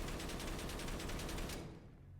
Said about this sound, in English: We have tracer loaded in first. Here we go.